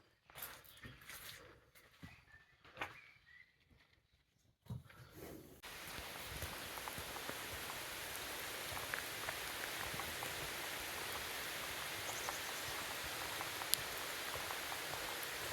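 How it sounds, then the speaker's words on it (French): Steady rain patters down all around, a dense continuous hiss that sets in after a few seconds of quieter outdoor sounds. "La pluie, toujours la pluie."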